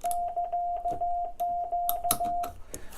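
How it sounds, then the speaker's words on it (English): Morse code dots sent from a ham radio paddle keyer, heard as a steady train of short, clear sidetone beeps at one pitch repeating rapidly for about two and a half seconds, with small clicks and rustles alongside. "So as I hold this one down, it sends a series of short dots."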